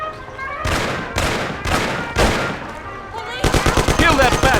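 Gunfire in the classic Mafia video game during a street shootout: several heavy single gunshots spaced apart, then a rapid burst of automatic fire, loud and close, with shouting voices mixed in.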